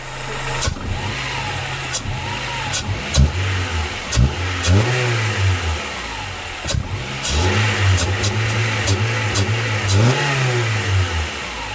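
A Honda Prelude engine runs in a garage, revving repeatedly in rising and falling bursts over a steady idle, loud and close, with sharp clicks and knocks between revs and no talk.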